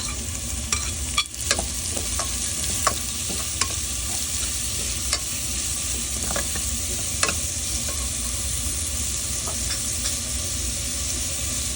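Hotdog pieces sizzle in a pan with browned garlic and onion, a continuous frying hiss broken by occasional scraping clicks of a utensil stirring.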